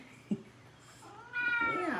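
A very old house cat meows indoors, one loud drawn-out cry coming in clearly near the end after a soft short bump, close and alone.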